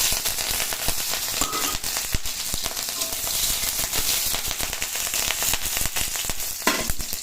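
Dried and green chillies crackle and sizzle in hot oil in a pan, a dense, continuous spattering with sharp pops scattered throughout, close and fairly loud, with no one talking.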